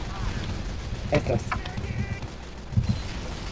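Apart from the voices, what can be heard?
explosions and gunfire in Team Fortress 2 video game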